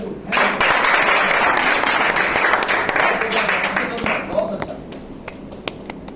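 Applause from an audience honouring a speaker named Vinod at a gathering, a dense run of clapping that swells quickly, holds steady for several seconds, then thins to scattered claps at the end.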